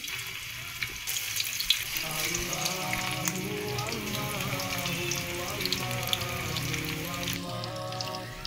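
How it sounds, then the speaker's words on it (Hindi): Chicken pieces dropped into hot ghee set off a steady, even sizzle of frying that carries on throughout at moderate loudness, with no talk over it. "अब इसको हम फ्राई के लिए घी में डाल देते हैं"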